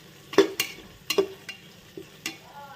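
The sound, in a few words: stirring spices in a pan for veg pulao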